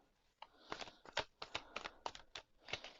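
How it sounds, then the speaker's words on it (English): A Gentle Tarot card deck is shuffled by hand in a quiet room, a series of crisp, close card riffles and taps in an irregular rhythm, with no talk. "I just wanted to shuffle a bit,"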